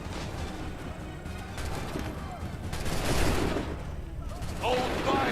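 A musket volley rattles in Assassin's Creed III as a dense, crackling burst of gunfire swells to a peak midway, with voices talking over the shots.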